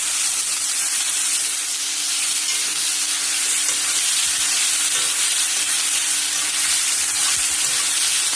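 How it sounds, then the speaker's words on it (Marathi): Sprouted moong and chavali sautéing in a pan make a steady, close sizzling hiss that continues evenly, with no voices. "आता ह्याचं छान असं परतून घ्या."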